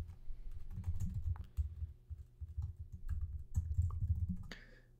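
Rapid typing on a computer keyboard while entering a task into the Wunderlist to-do app, a steady stream of close, crisp key clicks with a brief pause and a final tap, no talk over it.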